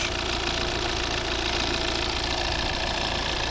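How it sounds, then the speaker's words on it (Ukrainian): A 2015 Volvo V70 with a 2.0 D3 diesel engine and automatic gearbox idles steadily with a rough, knocking diesel rattle, loud and continuous for the whole stretch, with no voices. "Ось робота, це новіший двигун."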